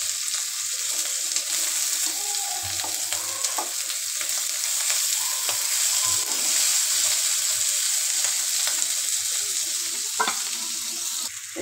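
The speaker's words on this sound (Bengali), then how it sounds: "শুধু বোনা করবো, তার জন্য ফ্রাই প্যানে রান্না করে ফেলাবো" Fish frying in a frying pan, a loud, close, continuous sizzle with bursts of crackling and occasional stirring scrapes throughout, no talking.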